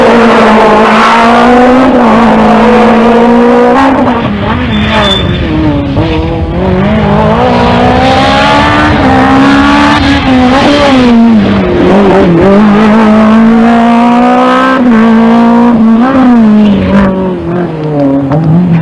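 Two 2-litre Renault rally cars battle at the 1994 Rallye Grasse Alpin, engines loud and close, revving and climbing through the gears with continuous rising and falling pitch and no talk over them.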